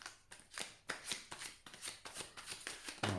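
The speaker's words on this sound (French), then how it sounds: "je vais les battre encore un petit peu" Large, slightly sticky True Black Tarot cards shuffled by hand, a quick run of soft papery riffles and slaps, close and quiet, no talk.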